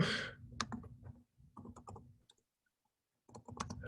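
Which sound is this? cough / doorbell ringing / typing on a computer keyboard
typing on a computer keyboard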